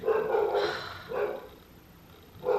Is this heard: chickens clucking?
no